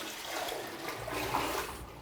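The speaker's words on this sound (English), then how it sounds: "You just take the water, and rather quickly you pour it in" Water poured quickly into a toilet bowl, a close, continuous rushing gush and splash that builds into a swirling flush-like drain, with no talking.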